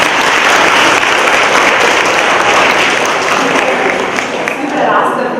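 Sustained, loud applause from an audience at a children's poetry event, a dense wash of clapping hands that holds steady for the whole stretch and swells slightly near the end.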